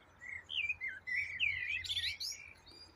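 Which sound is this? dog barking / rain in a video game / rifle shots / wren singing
wren singing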